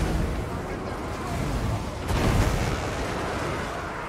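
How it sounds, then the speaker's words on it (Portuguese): Three flame cannons firing in Total War: Warhammer 2, a dense roaring rush of bursts and booms layered through a loud, continuous battle din, with a swell just past two seconds. "Três canhões lança-chamas atirando, velho."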